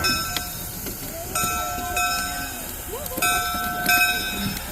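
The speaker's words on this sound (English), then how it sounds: "They're going to run around the train now." A heritage WW&F Railway train runs around at the station, its rail rumble broken by several short horn or whistle toots, with people talking nearby.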